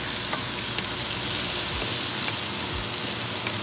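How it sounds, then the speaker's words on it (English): Mushrooms sautéing with thyme in butter and bison drippings in a cast iron skillet, a steady close sizzle and crackle running throughout with a couple of low stirring scrapes and no voices. "I'm going to add a little bit of thyme. And continue sauteing my mushrooms."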